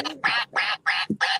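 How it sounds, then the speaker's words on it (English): A duck gives four loud, close, drawn-out quacks in a steady rhythm, with a brief lower grunt between the last two. "That's damn ducks."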